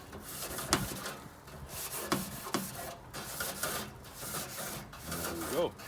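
A grill brush scrapes across the grate of a Weber Summit charcoal grill in a few rough rasping strokes, close and scratchy, with some brief background noise between passes.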